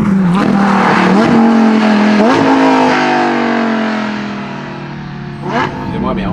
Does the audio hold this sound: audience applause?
no